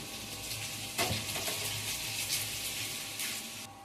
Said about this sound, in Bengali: ওদিকে কড়াতে ওই চিকেনটা ভাজা ভাজা হচ্ছে, আমি এদিকে সবজিগুলোকে ভেজে নিচ্ছি।